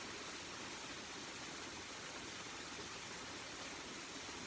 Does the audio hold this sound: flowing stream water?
yes